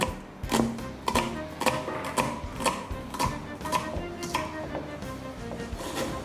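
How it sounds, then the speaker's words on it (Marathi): Knife chopping onion finely on a board for rava dosa at home, a steady series of sharp, close taps about every half second, fairly loud with a faint kitchen hum underneath. "त्यामुळे बारीक चिरायचा आहे हा कांदा"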